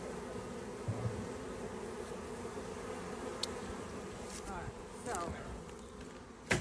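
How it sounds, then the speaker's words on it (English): Soft, continuous buzzing of a honey bee swarm outdoors, with a few individual bees zipping close past and occasional faint voices in the background. "This could be a swarm from somewhere else that just happened to come to this area because they smelled honey."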